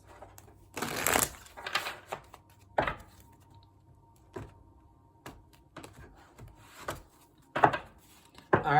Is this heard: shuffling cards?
yes